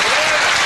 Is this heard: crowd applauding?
yes